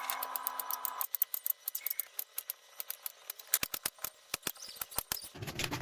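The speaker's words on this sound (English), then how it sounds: "we wash the zucchinis and peel them, and then we slice them like this." A knife slices peeled zucchini on a board. Quiet, crisp cuts come in a quick, uneven rhythm of close taps, some clustered in rapid bursts.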